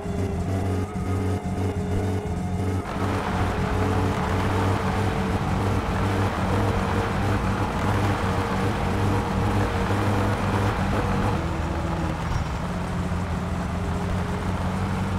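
A car engine in the game My Summer Car runs badly, giving a loud, continuous droning hum with a steady tone that shifts slightly in pitch a couple of times.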